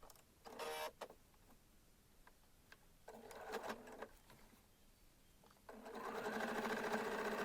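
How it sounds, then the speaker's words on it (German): A sewing machine stitches fabric layers together for a reversible bag, running in short bursts of fast mechanical whirring separated by quiet pauses, then a longer steady run near the end, close by. "von Nadel zu Nadel der Stoff aufeinander genäht"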